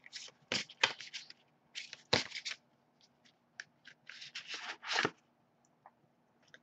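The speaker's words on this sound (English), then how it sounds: "As I shuffle the deck" A deck of oracle and tarot cards is shuffled close by in quiet, with several short papery riffling bursts and soft slides separated by brief pauses.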